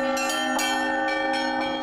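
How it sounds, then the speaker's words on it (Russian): Orthodox church bells ringing at noon on the Day of the Baptism of Rus, loud overlapping peals with repeated strikes and a sustained ringing hum throughout. "Волна колокольного звона накрыла православные церкви, начиная с Дальнего Востока, ровно в полдень по местному времени."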